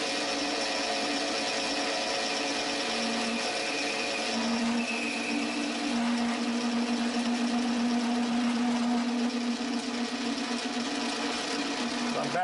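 A lathe takes a facing cut on a Stirling engine part, a steady mechanical whir and hum with a sustained tonal whine that rises partway through, continuous and close.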